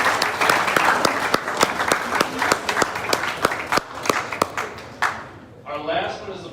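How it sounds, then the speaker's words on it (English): Applause at a high school boys' basketball banquet, a few seconds of dense clapping with sharp individual claps standing out, close and fairly loud, fading toward the end as a voice begins talking. "let's give a round of applause for Jeffrey Palmer."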